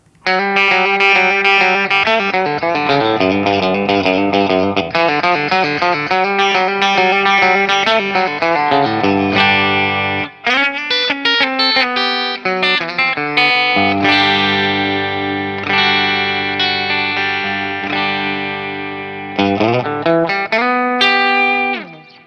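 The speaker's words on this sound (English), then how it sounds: "Let's test out some traditional telly tones first and see if this sucker can twang." Bright, twangy Telecaster-style electric guitar plays chords and single-note runs with effects on single-coil pickups, loud and close, with brief pauses between phrases.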